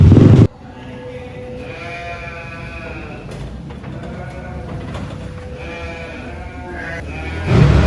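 Garut sheep bleat at a busy sheep market, several drawn-out calls overlapping one another above a dense crowd murmur, loud and close, with a brief bump of louder noise at the start and end.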